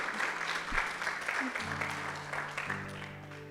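A church congregation applauds, a steady crowd of clapping hands filling a few seconds at moderate loudness while a voice speaks over it.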